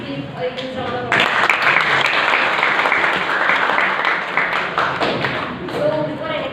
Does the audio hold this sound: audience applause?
yes